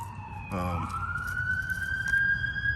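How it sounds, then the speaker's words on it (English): An ambulance siren wails and sweeps steadily as it passes along a street near a nursing home, loud and continuous over low road rumble, with no speech. "I wait till this ambulance go by"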